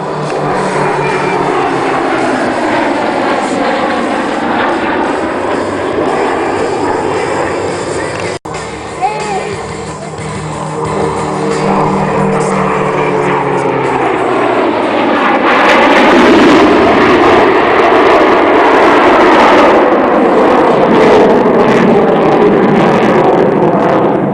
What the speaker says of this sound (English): Meteor and F-18.